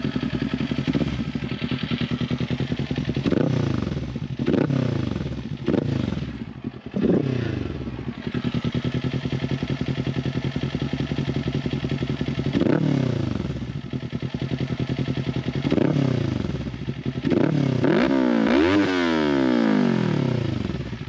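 A customized Kawasaki Z400 motorcycle engine idles close by, then is blipped through repeated revs that rise and fall in pitch, with a longer, harder rev burst near the end, loud and alone.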